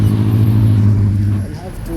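Heavy traffic on Uhuru Highway in Nairobi, a close, loud, continuous low engine rumble of vehicles that dips briefly near the end, with voices mixed in.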